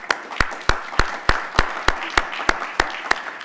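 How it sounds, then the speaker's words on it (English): Evenly spaced, crisp claps at a steady rhythm, about a dozen in a row, heard close and clear during a round of applause at an annual fall symposium. "if we could have a round of applause for Lily, please."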